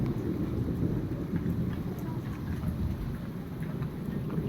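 Heavy rain falls in an Odisha village, a dense continuous roar with a low rumble of thunder beneath, steady and close throughout with no speech.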